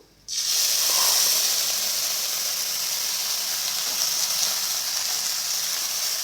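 A cup of milk poured into a roasting coconut mixture for kopra pak hisses and sizzles loudly in the pan, a sudden burst that settles into a steady, bright steam hiss lasting several seconds, with no talk.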